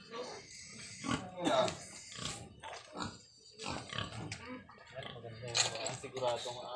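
Pigs grunting and oinking in short bursts nearby, mixed with people talking and some clattering in the background.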